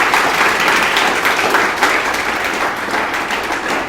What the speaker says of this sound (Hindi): तो जोरदार तालियों के साथ स्वागत करेंगे